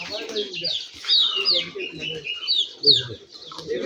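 Rajshahi Giribaj pigeons, mostly of the ghonobaji type, call in a cluster at close range, with overlapping chirps, coos and clucks rising and falling unevenly, while a person speaks over them.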